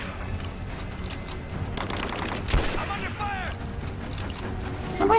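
Gunfire rattles through a firefight in Rise of the Tomb Raider, with bursts of shots at moderate distance and a sharper crack midway, while people talk over the shooting.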